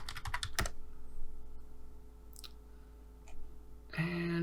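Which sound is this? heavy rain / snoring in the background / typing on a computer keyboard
typing on a computer keyboard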